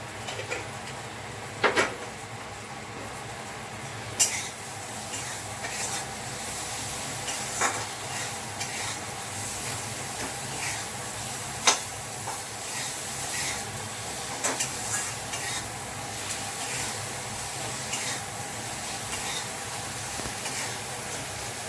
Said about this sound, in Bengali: পেঁয়াজ হলুদ টমেটো দিয়ে ভাজলাম